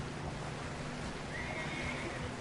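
A horse in the video game Red Dead Redemption 2 gives a faint, thin whinny midway, heard alone over a steady low background hum.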